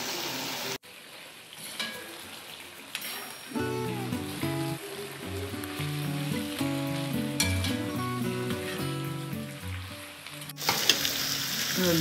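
Rice in a cooking pot is stirred, with a soft sizzling bubble and scattered light scrapes that sit under steady instrumental music for most of the clip.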